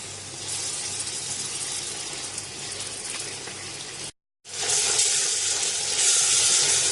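Garlic ginger paste frying with browned onions and garam masala in hot oil, a loud steady sizzle and hiss that cuts out briefly, then returns even stronger and brighter.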